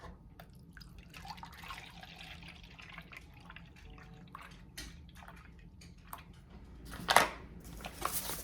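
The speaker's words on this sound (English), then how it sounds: "Cheesecake filling, we need 2 cups of milk." Milk is poured for a budget holiday cheesecake filling: a soft, steady trickle with scattered drips, ending in a louder splash and a few bright clinks near the end, with no talking.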